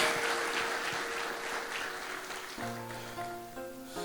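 Warm applause fills a church congregation, dense and continuous, then thins as a sustained keyboard or organ chord rises beneath it.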